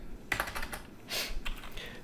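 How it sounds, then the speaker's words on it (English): Several quick keystrokes on a computer keyboard, close and crisp, in a short uneven burst with a brief pause before a final cluster. "I'm going to type in here average"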